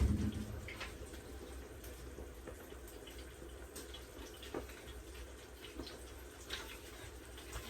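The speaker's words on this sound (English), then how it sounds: "So the fries are simmering." Fries sizzling in hot oil, a steady low crackling hiss with small scattered pops that runs evenly throughout, fairly quiet and with no voices.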